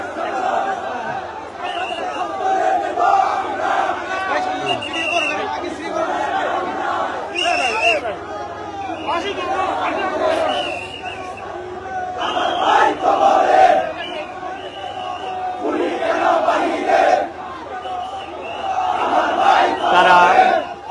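Loud massed voices of a protest march shout slogans in repeated call-and-response bursts, a dense crowd close by with chanting swelling and dipping without pause.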